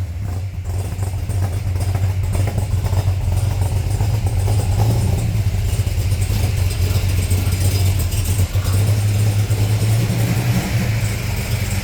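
A stroked, cammed V8 in a Ford XA GT Falcon runs close by, its deep lumpy idle rumbling steadily with slight throttle swells, loud and alone without speech.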